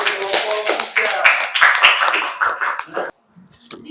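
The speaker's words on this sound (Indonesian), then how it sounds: "kita berikan tepuk tangan lagi untuk kelompok" A classroom audience claps for a student group, a short run of brisk, uneven hand claps mixed with voices and a cough, ending abruptly with a brief quiet gap.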